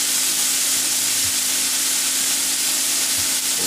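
Onion hits a hot pan for a vegetarian baked spaghetti squash, producing a loud, even frying hiss that runs unbroken from start to finish, with a faint steady hum beneath.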